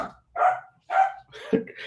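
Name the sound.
dog barking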